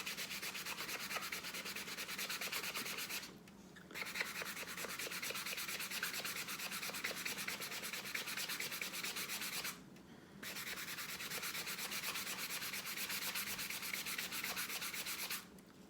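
An electric sander works over an alcohol ink surface to strip off stencil marks, a steady, close, grinding whir that runs continuously and cuts out briefly twice.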